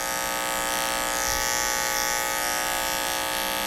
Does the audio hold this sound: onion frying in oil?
no